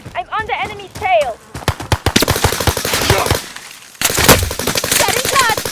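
Rapid gunfire from Call of Duty: Modern Warfare rattles in dense bursts, with machine-gun strings and single shots crowding the mix while a voice talks over the opening.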